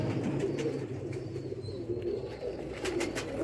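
A pair of banded (patti-wale) pigeons coo softly and repeatedly, close by, over a low background rumble with faint occasional chirps.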